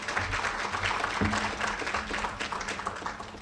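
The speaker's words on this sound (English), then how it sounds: "let's give her another round of applause" An audience at a grant funding training session gives a round of applause, a soft, diffuse patter of clapping that stays fairly even and fades slightly toward the end.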